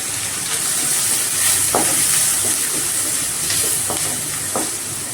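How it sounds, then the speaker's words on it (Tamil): Onions sizzle loudly in hot oil in a pan, with curry leaves and a pinch of salt added, a steady close frying hiss broken by a few soft scrapes of stirring. "இந்த வெங்காயம் சீக்கிரம் வதங்கிறதுக்கு கொஞ்சமாக கல் போட்டுக்கலாம்"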